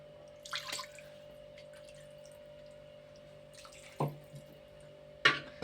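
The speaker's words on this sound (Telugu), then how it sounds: "కొద్దిగా వాటర్ పోసానండి." A little water poured into a cooking pot, heard as three short, close splashes and trickles spaced apart, with a quiet background hum between them.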